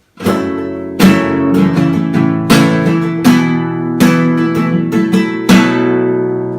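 Bright acoustic guitar chords strummed with a capo in a strumming pattern, each strum ringing out, close and fairly loud with no voices.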